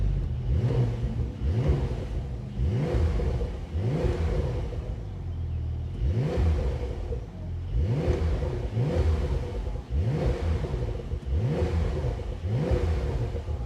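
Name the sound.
Brabus Porsche 911 Turbo S engine revving through exhaust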